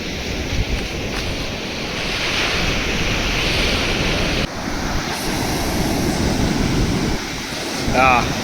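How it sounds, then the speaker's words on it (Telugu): Ocean surf at Kavali beach rushes in a continuous loud wash of strong waves, mixed with gusty wind buffeting the microphone. "అలలు అయితే గట్టిగా నూకేస్తున్నాయి."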